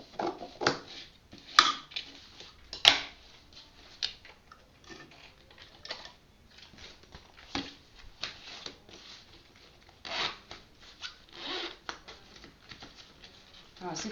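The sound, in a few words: cutting excess zipper pocket lining fabric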